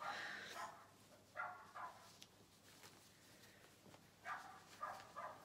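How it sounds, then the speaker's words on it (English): A dog barks in short bursts somewhere away from the microphone, two clusters of yaps separated by quieter gaps over a faint background hum. "That dog is really going for it."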